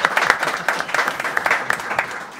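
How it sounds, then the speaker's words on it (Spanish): Scattered applause from a crowd at a DJ school conference, uneven individual claps pulsing at moderate, somewhat distant level over a short stretch. "Así que un aplauso ahí también."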